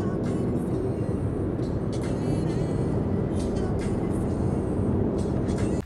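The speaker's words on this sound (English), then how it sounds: "We're out on the open road now in our Audi A3." An Audi A3 cruising on an open road between Porto and Lisbon, a steady, loud rumble of engine and road noise with rushing wind that holds constant throughout.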